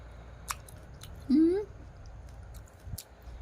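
Crisp, juicy chewing of sweet, crunchy Shine Muscat grapes, close to the mic, with wet bites and a short squeaky crunch in the middle; no words spoken.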